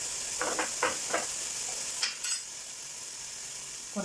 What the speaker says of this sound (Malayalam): ഉള്ളി നന്നായി വഴണ്ട് വരണം